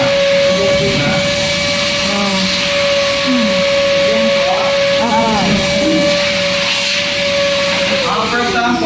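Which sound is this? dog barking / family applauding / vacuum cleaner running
vacuum cleaner running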